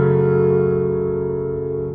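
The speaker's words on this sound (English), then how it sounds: "So a full minor chord would be" A full minor chord rings out on a distorted, effects-heavy instrument, one loud sustained strike whose harmonics hold steady and slowly decay over two seconds, with no voices.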